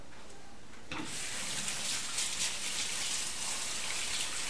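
A kitchen tap runs steadily at close range while hands are washed after cooking, starting with a soft trickle and then opening into a full, even hiss of flowing water.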